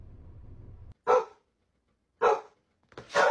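A dog lets out three short, sharp barks, spaced about a second apart and close to the listener, after a moment of low background murmur.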